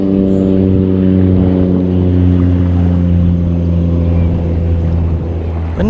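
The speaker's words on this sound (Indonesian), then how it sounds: "Wih, kapal terbang." A propeller airplane passes low over a solo campsite on an island, its loud, steady droning hum with strong engine harmonics filling the scene, fading slightly at the end.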